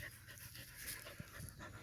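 A farm dog pants quickly and steadily up close, a soft rhythmic breathy huffing that continues with no other sounds over it.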